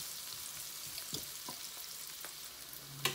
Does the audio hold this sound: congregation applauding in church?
no